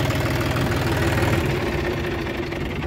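A John Deere 5050D tractor engine idling up close, a loud, steady diesel rumble with a rapid knocking pulse that stays even throughout, no voices.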